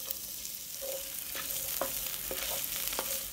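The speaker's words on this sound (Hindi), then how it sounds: "जिस पैन में मैंने स्टेक फ्राई किया था, उसी ऑयल के साथ मैं ये 1 स्मॉल साइज ऑनियन डाल रही हूँ," Chopped small onion frying in leftover steak oil in a pan, a steady hiss with a few soft scraping stirs and clinks over about three seconds.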